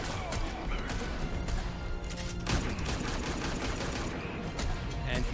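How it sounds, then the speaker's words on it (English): Rapid bursts of gunfire in the fighting game Injustice 2 during a tournament match, dense crackling shots with a sharp crash midway, layered over game music and effects. "FullAuto actually pushed him out with gunshots"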